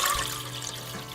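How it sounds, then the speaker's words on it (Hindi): Water is poured into a cooking pot, half a litre for Pakistani-style moong dal. A short, steady watery rush and splash, close and fairly loud, with no talking. "सबसे पहले हम देचकी में आधा लीटर पानी शामिल करेंगे।"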